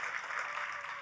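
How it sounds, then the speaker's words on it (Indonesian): A church congregation applauds for Jesus, a dense, steady wash of clapping that fills the whole moment without a break. "Tepuk tangannya boleh yang paling meriah buat Yesus Tuhan kita."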